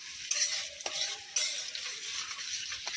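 Chopped green capsicum fries in hot ghee, a soft crackling sizzle broken by a few sharp scrapes and knocks of a spatula stirring in the pan, close and fairly quiet with no talk.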